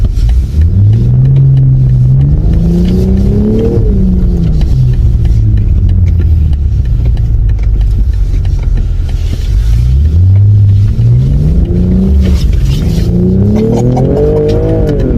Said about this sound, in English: This car is violent.